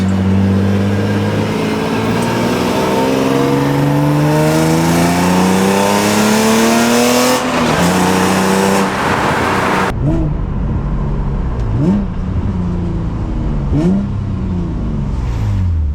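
A drift car revs hard and accelerates along a road, its engine climbing through gears with rising and falling harmonic sweeps, loud and close throughout, with a sharp drop in wind noise partway as the tone steadies.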